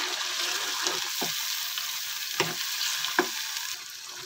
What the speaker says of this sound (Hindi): और अब मैं इसे पालक के साथ भी अच्छे से मिक्स कर लूँगा